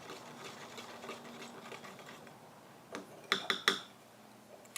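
A 3/4 red rust and 1/4 Snow White liquid line paint blend is stirred in a container, with soft scraping giving way to a few sharp clinking knocks of the stirrer against the rim near the end, close and fairly quiet.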